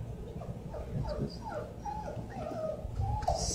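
A dog whimpers and yips in a series of short, high, wavering whines, fairly close and moderately soft, with a little background noise.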